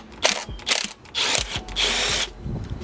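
T20 Torx screws are backed out of the idle air control valve on an Isuzu NPR, giving several short ratcheting, whirring bursts up close with brief gaps between them.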